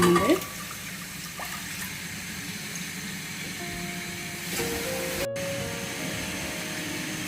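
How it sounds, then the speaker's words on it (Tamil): Water pours steadily into a pot, two cups for boiling sago and lentils, a continuous close splashing rush with a faint hum in the background. "நான் இந்த கப்பால 2 கப் தண்ணி இப்ப விட்டுருக்கிறேன்"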